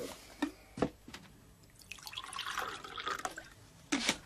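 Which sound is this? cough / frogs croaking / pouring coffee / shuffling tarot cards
pouring coffee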